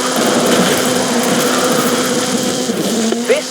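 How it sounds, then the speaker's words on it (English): In Forza Horizon 5, the 2-litre turbocharged, front-mounted engine of Ken Block's Gymkhana 10 all-wheel-drive Ford Focus RS RX drones loudly and steadily with a high, buzzing whine, close and continuous for a few seconds. "This is Mr. Kenneth Block's Hooligan Gymkhana 10 Ford Focus RS RX. 2-litre, turbocharged, front-mounted engine and all-wheel drive."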